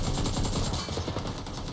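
Rapid gunfire in the mobile battle-royale game PUBG Mobile, a dense continuous burst of automatic shots running through the whole moment at steady loudness with no talk over it.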